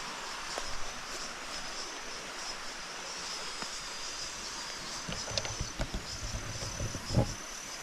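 Cicadas drone in a steady high-pitched chorus across a rural countryside setting, fairly faint and distant, with an occasional soft bird chirp near the end.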